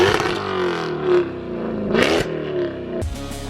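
A modified supercharged V8 Jaguar F-Type roars loud and close, revving up and down through several rising and falling sweeps, with a sharp blip near the end and no voices.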